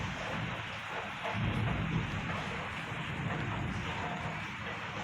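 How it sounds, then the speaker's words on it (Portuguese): Steady heavy rain during a thunderstorm with a low rolling rumble of thunder swelling through the middle, a dense continuous wash at moderate distance with no talking. "Tá caindo trovão aqui só. Ó o barulho."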